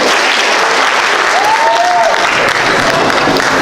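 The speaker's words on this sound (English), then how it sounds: "clap it up for yourself and have a seat" Students in a high school gathering applaud themselves, a dense, steady burst of clapping that holds at full strength throughout with a faint voice line briefly rising over it.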